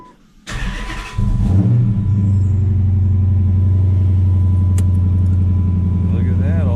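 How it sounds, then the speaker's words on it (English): A 2012 Dodge Challenger R/T cranks briefly, fires up with a quick rev, then drops into a steady, close rumbling idle. "now let's turn the ignition"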